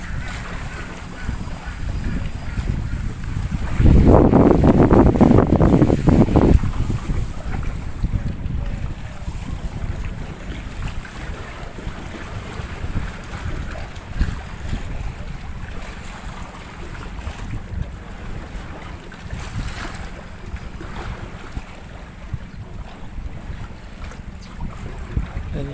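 Steady wind buffets the microphone aboard a boat on open water, with a louder rush of splashing early on and faint voices now and then.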